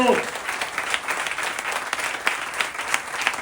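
An audience claps together to welcome three saints at a temple gathering, a dense, steady round of applause heard close and continuing throughout.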